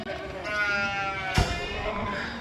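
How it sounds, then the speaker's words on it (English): Sheep on a farm on a cool autumn day bleat in a wavering, harmonic cry lasting over a second, with a brief sharp knock partway through and a steady murmur of background noise. "We got some sheep that think that they're starving to death."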